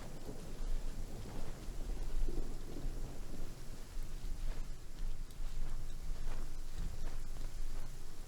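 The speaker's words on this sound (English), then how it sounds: "Please stay indoors until the storm passes." A thunderstorm in the video game Genshin Impact, with steady heavy rain hissing throughout and low rolling thunder rumbling underneath, continuous and enveloping without any voices.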